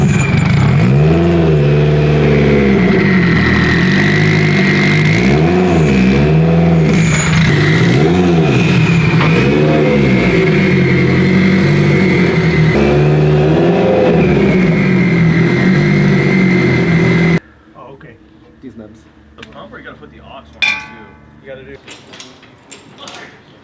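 A Mitsubishi Evo X time-attack car revs repeatedly on a dyno, its engine rising and falling in loud swooping sweeps for about seventeen seconds before cutting out, followed by quieter clanks and shop noises.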